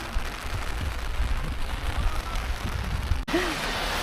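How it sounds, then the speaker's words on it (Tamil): Heavy rain falls steadily at a lake in hilly countryside, a dense, continuous hiss close by that fills the whole stretch, briefly dipping near the end. "பயங்கர மழை வருது."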